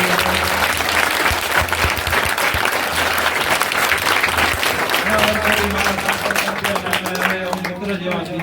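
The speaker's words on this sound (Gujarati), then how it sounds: "એક વખત જોરદાર તાળીઓ" A school audience at a village panchayat primary school event gives a loud, sustained round of applause, with some voices and a faint speaking voice mixed in toward the end.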